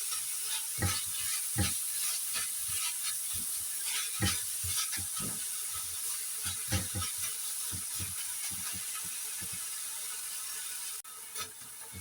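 Pumpkin and minced pork stir-fry in a hot pan, a constant loud sizzle cut by a run of sharp scraping and clacking strokes from the stirring utensil, with no talk.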